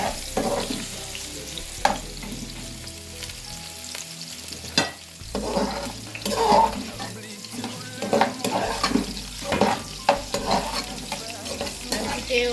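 Chopped hot dog fries in hot oil while being stirred, a loud busy sizzle broken by repeated sharp scrapes and clanks of the utensil against the pot.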